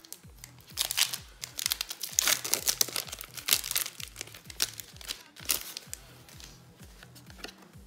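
A Pokémon card booster pack wrapper from the Destinées Radieuses set crinkles and tears open, dense crackling plastic rustles close to the microphone, continuous and uneven over several seconds.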